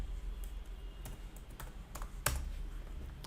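Typing a search on a computer keyboard, several separate clusters of light key clicks spread over a few seconds, close and quiet over a low room hum, with no talking.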